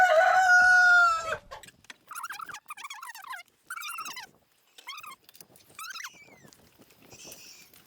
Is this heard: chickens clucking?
yes